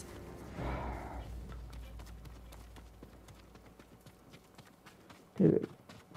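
Rhythmic clip-clop of horse hooves in the video game Ghost of Tsushima, light and steady, with a brief whoosh early on and a short louder thump near the end.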